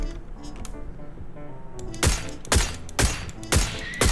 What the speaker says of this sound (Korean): 이 총소리는 여기 같은데?